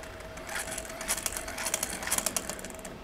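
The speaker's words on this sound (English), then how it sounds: "I want to crank it enough to make a spark there" A hand-cranked Biddle Megger insulation tester's generator whirs and clicks in quick, irregular mechanical bursts, faint and close, with no talking.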